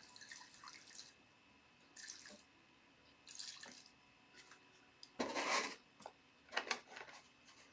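Water is poured into a refillable container for growing plants, heard as several short splashing and trickling bursts with pauses between, the longest and loudest pour near the end, quiet and close.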